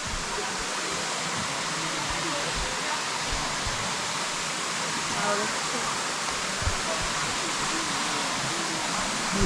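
Sticky Waterfall in Chiang Mai, a steady close roar of falling and rushing water, broadband and unbroken throughout, with faint voices underneath.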